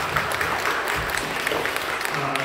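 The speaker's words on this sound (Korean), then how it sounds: "격려하는 박수 해주시죠" Congregation at a Korean church worship service clapping in encouragement, a dense, continuous wash of applause throughout the short moment.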